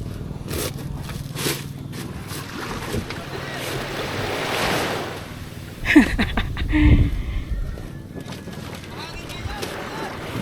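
Gusty wind buffets the microphone over the wash of surf and water, with some scraping and rumbling noises midway.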